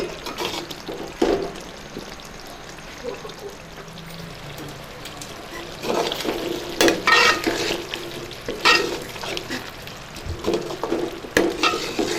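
Boiled eggs stirred into a simmering potato curry in a pan, heard as wet scraping spoon strokes and bubbling liquid over a low sizzle, with uneven louder bursts of stirring in the second half.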